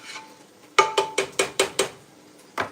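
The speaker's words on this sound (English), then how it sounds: "Give that a good stir so it starts cooking along with the beef and the onions." A spoon scrapes and knocks through ground beef and onions in a cooking pot, six quick rhythmic strokes close together followed by a pause and one more, close and clear.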